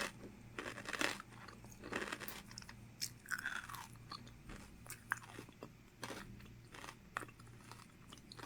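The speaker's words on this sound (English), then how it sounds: "And this one is so crunchy. Like, you guys heard that. It's like earth-shattering crunch." A crunchy snack chip is eaten up close, with loud crisp crunches and chewing in irregular bursts throughout, no talking.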